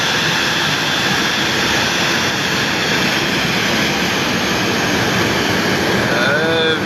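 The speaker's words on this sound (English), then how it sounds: "You see the flight clearly, Kenya Airways. This is the commercial flight." Kenya Airways commercial jet airliner at an airport, a loud, steady broadband jet roar that holds constant and close throughout, with a faint rising whine near the end.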